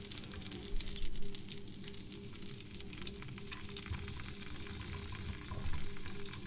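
Tomato masala fries steadily in an oil-slicked pan, giving a continuous close sizzle with faint stirring scrapes and small crackles all the way through, no voices present.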